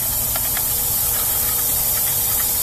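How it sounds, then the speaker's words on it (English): Starting fluid sprayed down the carburetor of a Chevy 350 V8, a steady, close, loud hiss with faint mechanical ticks beneath, continuous through the whole burst. "on this carb, I'm going to dump some starting fluid down here"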